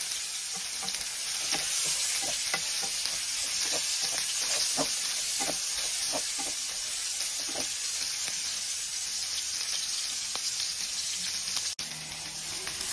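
Onion and garlic hitting browned meat in a pan for pinakbet, a loud continuous sizzle broken by repeated scraping strokes of a spatula, close and without voices.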